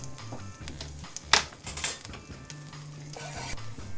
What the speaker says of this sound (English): So in the same pan where we've just cooked the steaks, add some garlic and some anchovies.